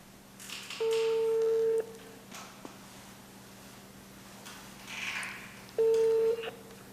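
A telephone rings for an incoming call in a quiet room at night, giving two steady electronic ring tones about a second long, separated by several seconds of low background noise.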